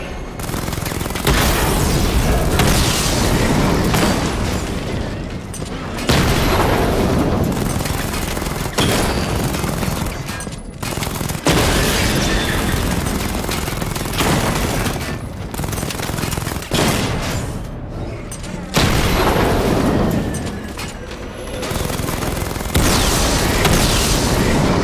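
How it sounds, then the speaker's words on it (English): Batmobile missile barrages from Batman: Arkham Knight, a loud, dense fusillade of blasts and booms in repeated bursts of several seconds each, broken by brief lulls, with no talk. "Charge the missile barrage to level 2 to destroy up to 4 targets at once."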